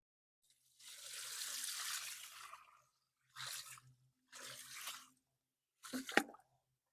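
Rainwater poured onto a freshly built compost pile in four separate splashing bursts: one long steady pour, then two shorter ones and a final quick splash, close and fairly quiet with no talking.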